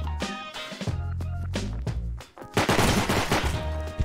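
Rapid bursts of gunfire in the game Rust, sharp close shots in quick clusters, with a brief lull before a denser volley.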